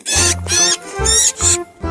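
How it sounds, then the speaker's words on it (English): Cartoon mouse squeaking in a children's animal animation, a run of high, bright squeaks in three or four loud bursts over a low musical backing, with no talk. "Mouse,"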